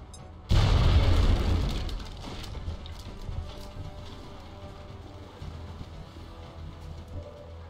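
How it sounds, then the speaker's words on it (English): A grenade blast in the video game XCOM Long War lands as a sudden loud boom with a heavy low rumble that decays over a couple of seconds into a lingering windy ambience. "Frag out."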